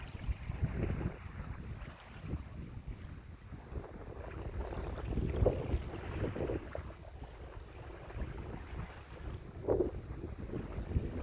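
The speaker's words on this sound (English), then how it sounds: "Water lapping on the shore." Soft, steady lake water washing against a shoreline under gusty wind rumble, with a few gentle splashes rising now and then, no voices.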